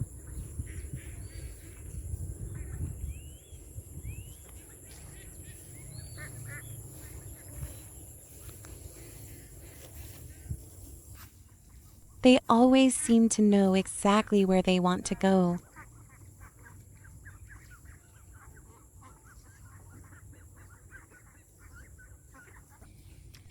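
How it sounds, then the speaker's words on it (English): Ducks quack in a loud, rapid cluster for a few seconds outdoors as chickens and ducks are let out into the fields in rural Vietnam. Softer fowl calls appear throughout, and a voice narrates over the scene. "lets the chickens and ducks out into the fields"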